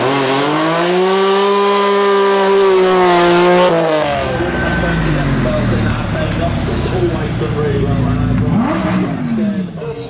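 A Lamborghini V12 supercar at the Beaulieu Supercar Weekend 2023 revs loudly and up close. The engine note climbs and falls for several seconds, then breaks into a rough, dense roar that continues to the end.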